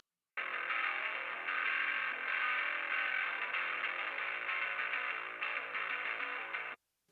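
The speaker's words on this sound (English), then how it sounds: "And then for the second bass, it sounds a bit like this." Second bass guitar track with cranked distortion through a tube preamp, a gritty, honky sustained tone played alone for several seconds, starting and stopping abruptly.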